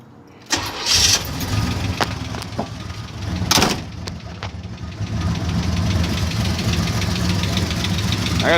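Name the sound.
torque converter clicking on a 1980 Chevy El Camino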